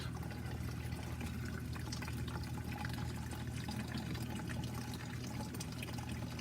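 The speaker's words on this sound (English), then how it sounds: "you want to rinse this till you have clear water coming out of the end of the hose" Water flows steadily from the end of a hose while a filter cartridge for a BRS reactor is rinsed, giving a continuous, fairly faint pouring rush with no voices.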